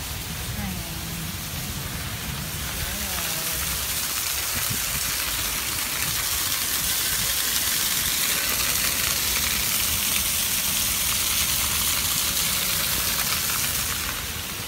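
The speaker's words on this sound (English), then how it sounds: "It is raining so hard." Heavy rain pours down in a dense, continuous hiss that holds steady and loud throughout, with no other sounds standing out.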